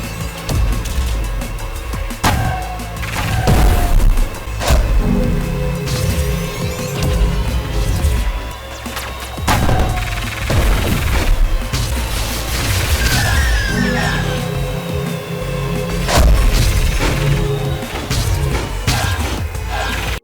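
Star Wars-style explosions in an indie racing game come as a dense, loud run of booms and crashing bursts, repeated every second or two over a continuous backing bed of engine and music.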